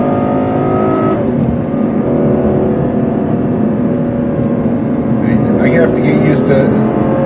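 Ferrari GTC4 Lusso engine heard from inside the car as it downshifts, a loud, continuous mechanical roar with rising revs and whine, accompanied by a voice talking over it.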